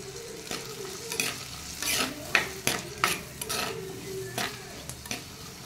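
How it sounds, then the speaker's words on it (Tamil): Sliced shallots with cinnamon, cloves and cardamom sautéing in sesame oil for a crab gravy, a soft steady sizzle broken by sharp scrapes and clinks of a spoon stirring in the pan. "நல்லா வதங்கட்டும்."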